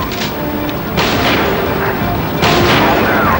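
Sniper rifle shots and incoming missiles in the Silent Scope video game on Dreamcast, a loud, dense run of booming blasts and bursts, with heavy explosions near the start and later, while someone talks over it.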